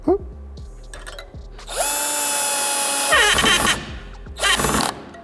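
A Dnipro-M cordless drill driver drives a screw into wood, with short bursts, then a long loud whine before the clutch slips and ratchets, followed by another burst close by.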